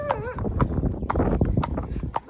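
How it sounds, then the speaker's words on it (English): A horse walks out on a hack, its hooves clip-clopping in a steady, close rhythm under rider chatter. "Did you notice there that Troy sets off nice and confidently"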